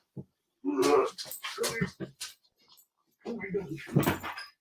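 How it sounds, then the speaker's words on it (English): A pet dog whimpers and yips in short, high bursts near the microphone, mixed in with someone talking to it in an indoor home setting. "This is my adorable dog."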